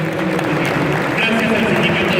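Audience applause at an academic lecture, a steady dense wash of clapping hands held at an even loudness for the whole stretch, with a voice speaking over it.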